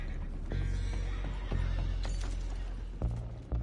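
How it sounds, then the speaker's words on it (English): Horses neigh and whinny repeatedly in Red Dead Redemption 2, with clip-clopping hooves and mechanical clanking in a busy game scene, the calls fairly loud and close. "go find out about those horses down below"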